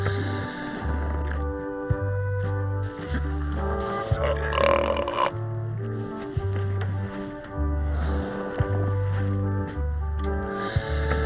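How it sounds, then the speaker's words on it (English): Belches in a burping contest in the Return to Monkey Island video game, several wet, squishy burps over a bouncy looping game soundtrack. "They're excellent for burping contests."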